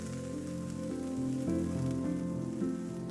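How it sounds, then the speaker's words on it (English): Napa cabbage, green onion and kombu saute in a hot pan, giving a steady, soft rain-like sizzle that holds for a few seconds beneath tonal background music. "Napa cabbage. Green onion and kombu. Saute for a couple of minutes."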